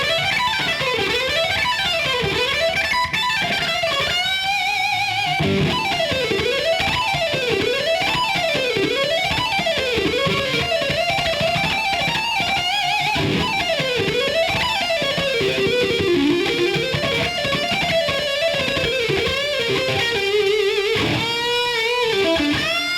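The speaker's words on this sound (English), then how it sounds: "I'm just going to play those notes up and down as fast as I possibly can using hammer-ons and pull-offs." Electric guitar plays a rapid G Mixolydian rock lick, with hammer-ons and pull-offs sweeping notes up and down in fast, continuous runs that repeat for the whole stretch.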